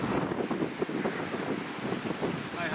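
Wind blowing outdoors on a mountain cycling trip, a steady, loud rushing buffet that roars across the microphone without a break, with no voices.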